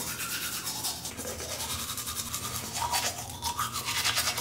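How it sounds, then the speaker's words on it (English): A toothbrush scrubs teeth in a rapid, steady back-and-forth rhythm, close and fairly loud, with no talking. "I actually brush my teeth as soon as I get out of bed."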